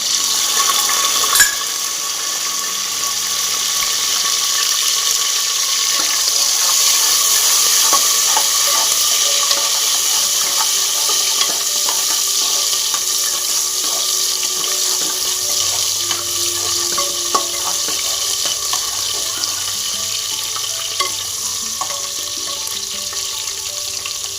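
Tomatoes and curry leaves drop into a hot frying pan for a brinjal dish, with an early thump followed by a loud, continuous sizzle and occasional scraping stirs, with no talking.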